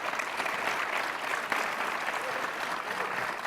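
A conference audience applauds to welcome a panel, with steady, dense clapping filling the hall from start to finish at an even level.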